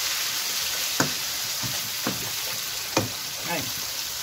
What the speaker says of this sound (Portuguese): Gordura bem quente e tem que tomar cuidado para fritar a tripa às vezes fora